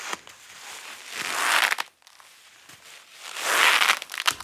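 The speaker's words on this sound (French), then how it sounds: "c'est une corde que tu viens craser comme ça" A rope being crushed for a sound effect: two long, gritty crunching and creaking swells, each building and fading, separated by a brief pause, close and alone.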